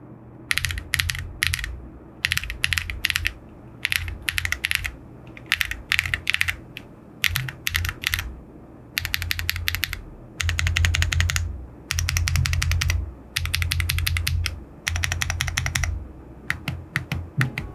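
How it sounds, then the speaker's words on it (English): Fast bursts of keystrokes on a Meletrix ZoomPad mechanical number pad, crisp clacky clicks in rapid clusters separated by short pauses, close up and with no one talking. "let's go ahead and check out this sound test on the ZoomPad."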